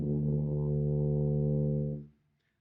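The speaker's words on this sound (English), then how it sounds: "it's called D. It's fingered first and second valve like Nick is showing you" A tuba plays a single low D, fingered first and second valve, held steady and full for about two seconds before cutting off, with no voices over it.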